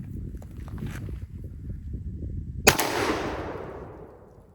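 A shotgun fires a modern all-plastic shell in a single sharp, loud blast that rolls off into a fading outdoor echo, preceded by low rustling and footsteps.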